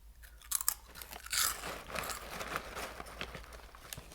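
Someone chews a crunchy snack right up close, with sharp crisp bites followed by a run of wet crunching chews that slowly soften.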